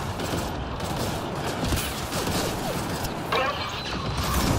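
Explosions and crunching impacts from a combat fight in the video game Mass Effect Andromeda: a dense, continuous clatter of metallic bursts and mechanical rattles, loud and busy for several seconds, with a brighter blast near the end.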